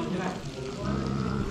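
Maggi noodles frying in a pan at a roadside stall on Gunung Jerai, a steady sizzle running through the whole stretch, close and fairly loud, with voices mixed in underneath.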